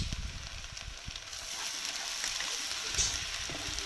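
Finely chopped ginger and garlic fry in coconut oil for Kerala-style beef kondattam, a steady close sizzling hiss with small crackles and pops throughout, no voices.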